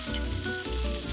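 Ham fried rice sizzles in a hot pan as soy sauce goes in, a short, close, continuous hiss at a steady level.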